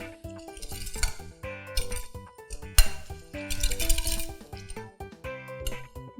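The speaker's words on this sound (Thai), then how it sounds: "ก็ใส่หอมแดงค่ะพริกขี้หนูซอยตะไคร้เราก็คนให้เข้ากันอีกทีค่ะ" Utensils clink and scrape against a bowl while a Thai lemongrass shrimp salad with shallots, sliced bird's eye chili and lemongrass is stirred, bright irregular knocks, close and fairly loud, with no talking.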